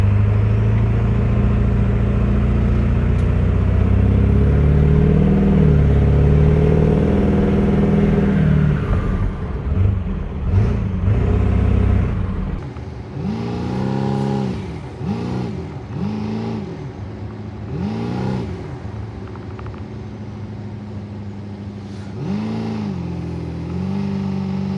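A diesel truck fitted with an 8-inch smoke stack drones loudly and steadily while driving, then settles into repeated deep revving surges and throttle swells, close and continuous with no talk.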